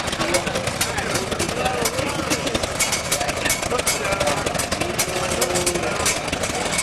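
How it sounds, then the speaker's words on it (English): Tractors rolling past in a tractor parade at a tractor show, producing a loud, steady engine rumble and clatter that stays constant throughout, with voices audible under it. "This is part of the tractor parade."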